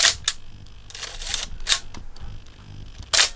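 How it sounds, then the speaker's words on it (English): Konica Autoreflex T3 film SLR firing its mechanical shutter, several crisp close clicks spaced apart, each a sharp broadband snap with the mirror and shutter action audible, over a quiet room background. "nice shutter sound, right?"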